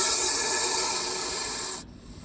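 A Russell's viper hisses loudly and steadily, a sustained breathy rush like a pressure-cooker whistle, hidden under sacks in a warehouse; it holds for nearly two seconds and then cuts off abruptly into quiet.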